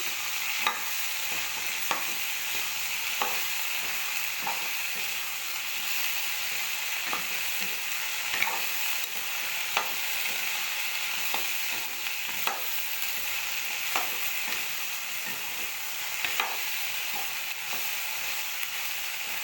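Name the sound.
okra and potato frying in a pan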